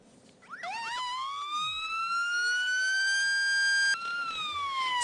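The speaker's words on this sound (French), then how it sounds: "Sirènes hurlantes" Police sirens wail loudly during a motorcyclists' protest procession along the seafront in Saint-Denis, Réunion, rising and sweeping in long overlapping tones that carry on steadily for several seconds.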